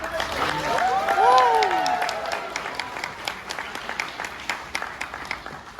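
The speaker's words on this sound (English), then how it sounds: "that applause might have touched Chips a little bit" Audience at a Six Flags Over Georgia Coasterfest 2024 park presentation claps after an announcement, the applause tapering into scattered claps, with a speaking voice over the start.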